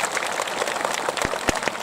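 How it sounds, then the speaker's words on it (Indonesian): A crowd at an Islamic tabligh akbar gathering in Jakarta claps for the district head in a short, dense burst of steady applause, with a few sharper individual claps standing out near the end. "tepuk tangan dulu buat Pak Camat."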